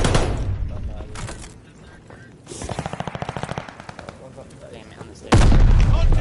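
Grenade blasts and rapid gunfire in a tactical shooter game, with bursts of machine-gun fire, a loud detonation near the end, and shots repeating through the scene.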